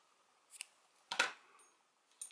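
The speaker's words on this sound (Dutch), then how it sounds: "je pakt je schaar" Scissors snipping crochet yarn, a few quiet, close, crisp cuts with a clear central snip between softer clicks, alone in a quiet room.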